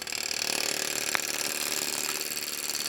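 A wood lathe rough-turns a wooden bowl, the gouge cutting steadily against the spinning blank as it passes across the square-cornered piece. The whir and shaving noise hold at a constant level, with one sharp tick partway through.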